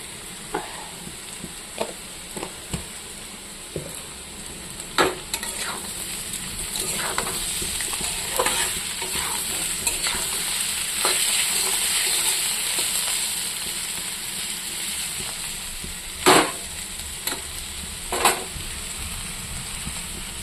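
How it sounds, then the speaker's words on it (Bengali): Potatoes frying in a pan, a constant soft sizzle under repeated sharp scrapes and clinks of a spatula stirring against the pan. "দেখুন বন্ধুরা, আলু ভাজা।"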